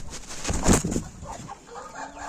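A hen clucks beside newly hatched chicks, a short loud burst of clucking followed by softer, quieter calls close by.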